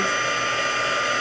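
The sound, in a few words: embossing heat gun blowing hot air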